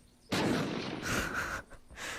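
A frag grenade explodes in the zombie game Unturned, one loud booming blast followed by a rumbling tail and a second, softer burst of noise, with no voices.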